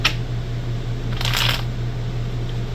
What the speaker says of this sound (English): let me give this a shuffle, a few shuffles